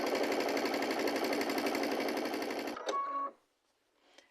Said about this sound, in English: So I'm going to go ahead and sew one, even though the pattern does not say to sew it.